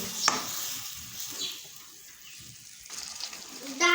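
Soaked moong dal gets mixed into greens in a pan, soft stirring and faint sizzle with a few spoon scrapes and a louder clatter near the end.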